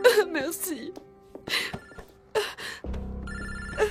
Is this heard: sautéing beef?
no